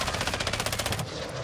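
A fast automatic burst of gunfire in the video game Call of Duty DMZ rattles in a rapid even rhythm for about a second, then stops, leaving a low background rumble.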